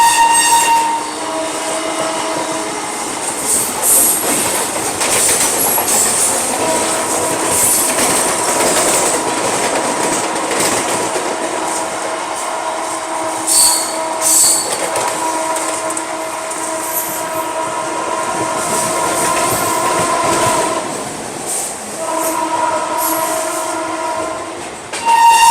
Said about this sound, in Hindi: भाई साहब लोकल ट्रेन ओवरटेक मार के चली गई हम लोगों को यहाँ पर।